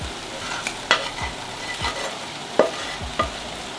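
Turkey bacon fries in a sticky pan for breakfast burritos, giving a steady sizzle broken by sharp utensil scrapes and clinks and a few soft low thumps at an uneven pace.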